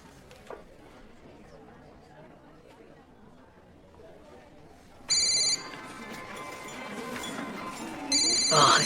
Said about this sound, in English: Are you aware that the phone is ringing?